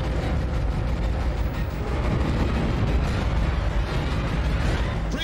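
Cannon fire in the sci-fi game Dead Space rumbles as a dense, continuous barrage of heavy booms and crackling blasts, loud and sustained with no pauses.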